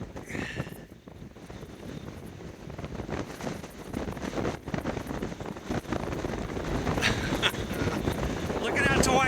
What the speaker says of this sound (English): the wind is kind of screwing up conditions here for White Pocket